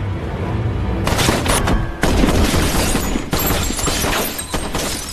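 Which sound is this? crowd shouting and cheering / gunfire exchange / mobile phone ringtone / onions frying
gunfire exchange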